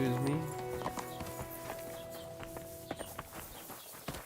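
Horse hooves clip-clop at a steady walking pace in the medieval game Kingdom Come: Deliverance 2, with game music and ambience underneath and a voice talking over the top.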